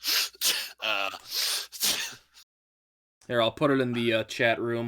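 A single sharp sneeze bursts out amid lively conversation among tabletop role-play players, followed by a pause and more talking.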